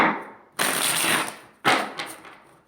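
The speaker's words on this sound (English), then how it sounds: "Do one more shuffle and we'll get to it." Two quick riffles of cards being shuffled, each a crisp rustling burst that fades out, heard close up with no talking.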